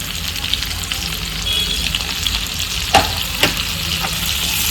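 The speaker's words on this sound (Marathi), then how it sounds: "आणि कांदा छान परतून घ्यायचा आहे" Onion sautéing in a mix of butter and oil, a steady hissing sizzle, close and fairly loud, with a couple of sharp knocks from the spatula against the pan.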